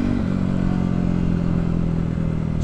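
A supermoto motorcycle rides along a dead-end road past expensive houses, its engine a loud, steady close drone with wind rumble and no pauses.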